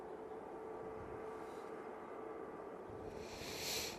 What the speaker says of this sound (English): third out will be this Ryanair 737-800. It's off to Gran Canaria